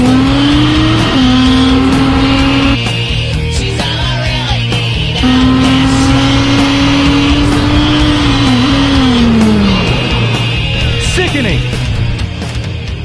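A nitro Traxxas T-Maxx RC truck with a Dynamite 19 engine revs loudly and close, its high whine rising, holding and dropping over several bursts, with people talking at points.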